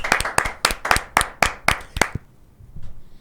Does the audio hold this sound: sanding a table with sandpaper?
no